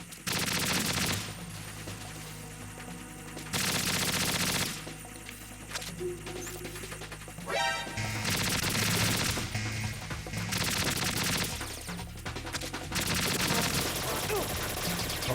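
Machine gun fire in Metal Gear Solid 2, loud sustained bursts of rapid shots broken by short pauses, with someone talking in between.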